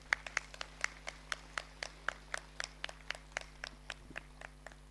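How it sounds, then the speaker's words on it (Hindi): Steady rhythmic hand clapping from a crowd at a yoga camp held in a jail, with many sharp, evenly spaced claps at moderate distance and no talk. "ताली बजाते रहिए, कोई दिक्कत नहीं है।"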